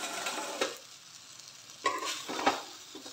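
Poha with tomatoes is stirred in a pan, giving a soft continuous sizzle broken by a few sharper scraping strokes of the spoon, close and moderately quiet.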